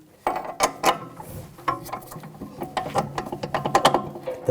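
A ratchet works a bolt into a strut mount on a 2007-2013 BMW X5, giving quick bursts of sharp clicking strokes with short pauses between, close and fairly clear with no voices.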